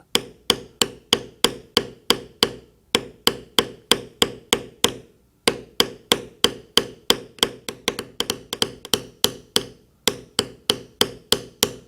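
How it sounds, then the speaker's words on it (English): A wide beveler is struck repeatedly with a mallet to bevel a rope-style stamped cut in leather. The crisp, evenly spaced taps come close and loud in steady runs with two short pauses. "Now we'll just use a nice wide beveler"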